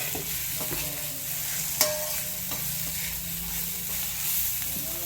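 Chopped coriander is stirred into a cluster bean (gavar) vegetable mixture in a hot pan, giving a steady close hiss of sizzling oil with occasional scraping taps of a spoon, and no voices.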